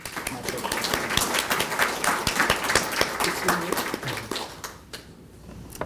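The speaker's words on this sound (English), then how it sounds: "I'm gonna clap for Mishari." Applause from a crowd at a scholarship reception, dense clapping that builds, holds steady, then thins out and fades near the end.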